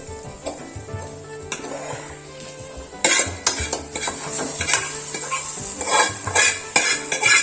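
Gongura leaves drop into a hot pan for gongura pachadi and are stirred, with loud clattering spoon scrapes against the metal over a soft sizzle, growing busier after the first few seconds, no voices.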